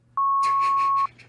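A single steady censor beep tone, loud and close, blots out speech on a podcast for nearly a second, with muffled talking continuing underneath and after it.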